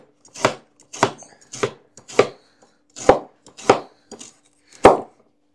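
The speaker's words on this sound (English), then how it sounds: "We just slice it up into cookable pieces." Fresh garden rhubarb stalks sliced into pieces with a knife on a cutting board, about eight distinct crisp chops at a steady, slightly uneven pace, close and clear with quiet gaps and no voices.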